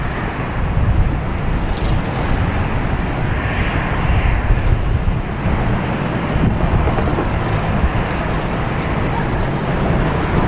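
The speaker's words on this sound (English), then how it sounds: "737, regular, flight 943. It's a Boeing, so it's one flash." Boeing 737 airliner at Boston Logan Airport producing a broad, steady jet engine roar that stays loud and constant throughout, with wind buffeting the microphone.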